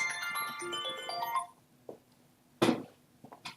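A phone's melodic ringtone chimes for about a second and a half, then stops, followed by a few scattered thumps and handling noises.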